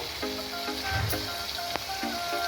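Ground chili powder hits hot oil with mustard paste while banana stem cooks, giving a steady, dense sizzle under faint tonal sounds for a couple of seconds.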